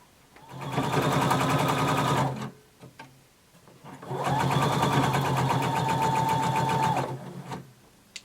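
A sewing machine stitches a 5/8-inch seam across the bottom of a bodice in two long, loud bursts of rapid even stitching, separated by a short pause with small clicks.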